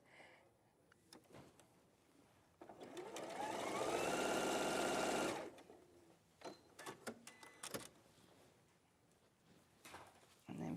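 Sewing machine stitching diagonal lines on a quilt, a close, steady whirring burst of a few seconds between quiet handling noises and light clicks.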